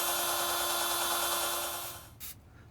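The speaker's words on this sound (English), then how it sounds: "we're gonna start our pilot hole with a little 1/8 bit" A small 1/8-inch bit drills a pilot hole in an off-road upgrade to a Lonestar Grillz offset smoker: a steady, close, high-pitched whine of the drill that winds down near the end.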